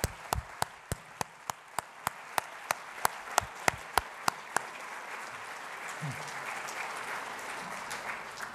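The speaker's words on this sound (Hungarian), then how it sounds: "És tapsoljuk meg őket" An audience at a school programme presentation breaks into applause: a run of sharp, evenly spaced claps in the first half, then a dense, steady wash of clapping continuing to the end.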